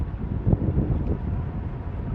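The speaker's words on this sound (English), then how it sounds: "Oh yeah, baby, feel that wind" Steady low wind roar buffeting a microphone while riding a motorbike up hairpin mountain roads in the French Alps near Colle dell'Agnello and Izoard, continuous and fairly loud with faint engine rumble beneath.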